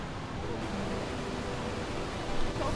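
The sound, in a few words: flowing river water near Niagara Falls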